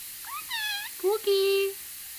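A parrot imitates a cat's meow, giving two rising-and-falling meow-like calls, close and clear against a quiet background.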